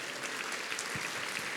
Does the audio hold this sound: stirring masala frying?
no